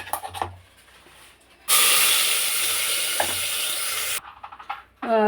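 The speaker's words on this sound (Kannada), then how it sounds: "ಇಲ್ಲಿ ಕುಕ್ಕರ್ಗೆ ಎಣ್ಣೆ ಮತ್ತು ಸಾಸಿವೆ ಜೀರಿಗೆ" Mustard seeds and cumin hit hot oil in a pressure cooker, bursting into a loud, steady sizzle that hisses for a few seconds before cutting off, with brief clattering around it.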